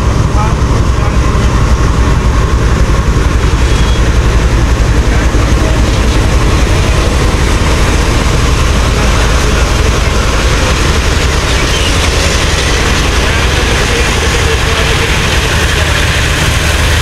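The Green Line Express stands at platform 1 of Khanewal station in Pakistan, its locomotive idling with a loud, steady low rumble and engine drone that continues throughout without pause.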